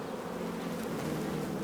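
Honeybees drone around an open, healthy hive full of brood and pollen, a steady, close buzz of many insects with nobody talking.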